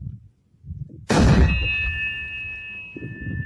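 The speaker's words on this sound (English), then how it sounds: "That's the sound of tinnitus." A sudden heavy blast from a Carl Gustav recoilless rifle in wartime field footage is followed by a sustained high ringing tone that hangs steadily for a couple of seconds over low muffled background noise.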